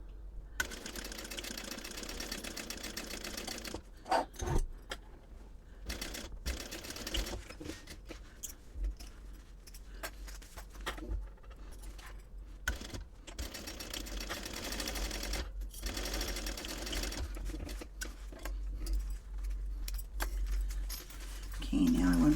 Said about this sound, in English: So now I'm going to sew it using a 3/8 inch seam allowance.